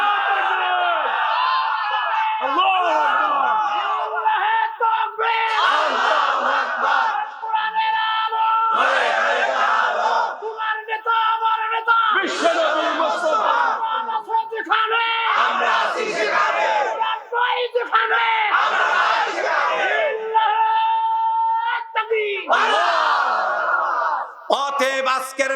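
A large crowd at a Bengali Islamic sermon gathering shouts a takbir chant in loud, rhythmic bursts of massed voices that rise and fall repeatedly, with brief gaps between the calls.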